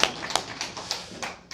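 Applause from a small church congregation during a Sunday service, a handful of sparse, uneven hand claps and taps, moderately close, fading out after a second and a half.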